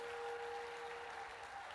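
A church congregation clapping, a faint, even wash of applause with a steady tone running underneath.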